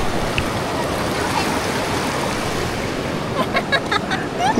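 A river at night near a campsite in the Coto Mines area of Masinloc, Zambales, rushing water as a steady close broadband wash, with faint chirps or clicks appearing toward the end.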